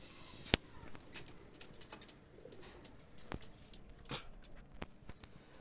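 A single young pigeon, probably a male chick, is let go and beats its wings in scattered, crisp flurries, with several close flaps and a few sharper claps spread across a quiet room.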